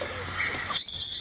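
Birds calling in a drainage line on a morning safari, a few thin whistled and trilling notes near and far over quiet outdoor background, the last call a sustained high whistle.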